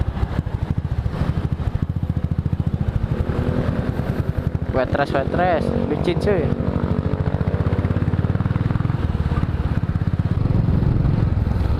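A Royal Enfield Classic 500 single-cylinder motorcycle, with about 12,000 km on it and vibration-loosened handlebar bracket bolts, thumps steadily at close range while riding, its rapid even exhaust pulse continuous beneath someone speaking over it.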